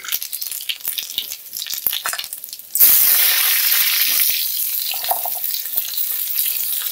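Panch phoron, cumin seeds and bay leaf hit hot oil with a sudden loud burst of sizzling that stays strong and crackly, after a quieter stretch of light pops and clicks.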